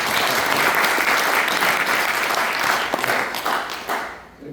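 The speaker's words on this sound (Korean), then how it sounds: "이 말에 동의하시면 박수 한번 쳐주시죠." A lecture audience claps in loud, dense, sustained applause that fades out at the end.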